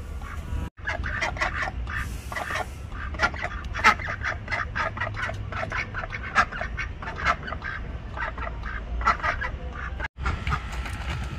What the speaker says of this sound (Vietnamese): các bạn nhìn thấy đôi vịt có đẹp không?